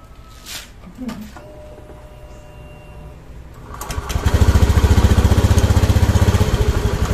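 Scooter engine idling after a CVT upgrade, a steady low throbbing rumble that swells in from about four seconds and holds close and loud, with faint clatter before it.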